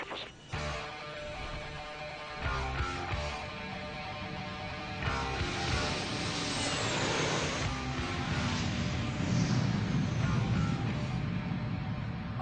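A Boeing 757 airliner on its takeoff roll, heard from inside as a loud, steady engine roar that builds and grows fuller across the clip, with no talk.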